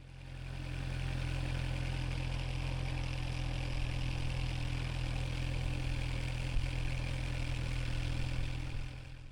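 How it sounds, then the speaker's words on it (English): A motorcycle pulls away slowly on clutch control alone with no added throttle, its engine holding a steady low idle-like rumble, close and continuous with no speech. "I'm just going to use clutch control with my left hand to get the bike moving forward."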